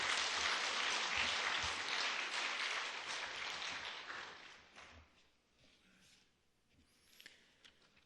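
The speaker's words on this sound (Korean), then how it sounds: "우리 격려의 박수를 좀 주십시오." Congregation applause during a church sermon service, a dense burst of clapping that holds for about four seconds and then fades to scattered claps and quiet room sound.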